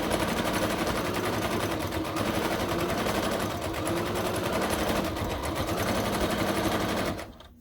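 A sewing machine top stitches a fabric sofa caddy about an eighth of an inch from the edge, a loud close whir that runs without a break for about seven seconds and then stops.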